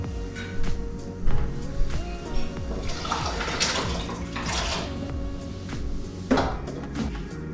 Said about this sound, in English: let me get this potato into the pot of boiling water that we have behind me here